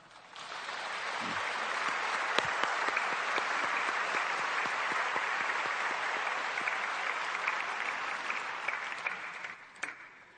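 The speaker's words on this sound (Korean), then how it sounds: "잠시 일어나시면 우리 박수로 환영하겠습니다" A church congregation at a dawn service claps in welcome for visiting youth groups, a loud, even roll of applause that swells in and continues for about ten seconds before tapering off.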